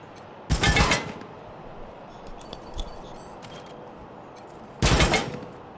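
Gunfire in the post-apocalyptic video game Wasteland 3 comes as two loud, close bursts of shots roughly four seconds apart, with faint clicks and mechanical ticks between them and no talking.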